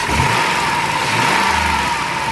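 A van's 3.3 V6 idles in a steady, even hum with a faint low rumble underneath, close up and loud, with no voices.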